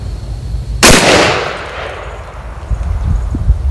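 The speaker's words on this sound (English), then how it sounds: "I'll just kind of aim down range at the pumpkin, see what we get. First shot, let's see what happens here." A single loud blast from an old shotgun, unfired for over 30 years, aimed downrange at a pumpkin outdoors, with a sharp crack and a long decaying rumble followed by low background noise.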